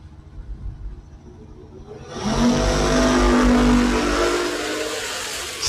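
A 1969 Camaro at a drag race launches from the starting line, its engine bursting into a loud, sustained full-throttle roar after about two seconds of quieter idling and crowd noise.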